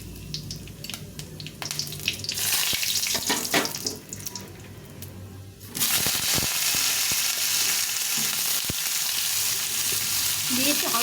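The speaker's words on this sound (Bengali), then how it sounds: "শুকনো লঙ্কা আর কালো জিরে ফোড়ন দেব। দিয়ে এখন ঝিঙেগুলোকে ছেড়ে দেবো।" Ridge gourd slices drop into hot oil tempered with dried red chilli and nigella seeds, and a loud, steady frying hiss takes over after a few seconds of clattering and spatula movement.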